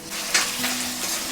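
Coconut pieces fry in hot oil in an iron pan while being stirred, a bright continuous sizzle with a scrape near the start, loud and close without talk.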